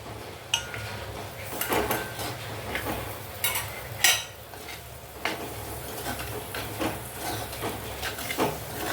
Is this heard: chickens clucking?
no